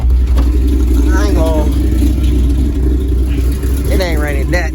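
An El Camino's carbureted engine idles with a steady low rumble close by while someone talks over it.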